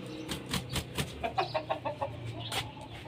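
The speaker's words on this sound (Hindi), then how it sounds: "ये है दोस्तों हमारा मुर्गा" A rooster clucks in a quick series of short, close calls, with a few louder squawks mixed in.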